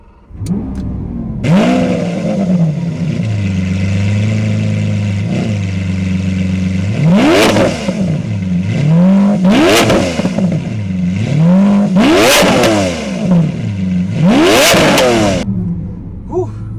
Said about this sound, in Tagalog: Engine start of the Aventador SV.